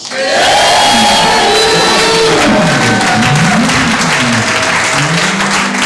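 A church congregation at a seminar bursts into loud, sustained applause and cheering, with shouts and whoops rising over the clapping, continuous and close for about six seconds.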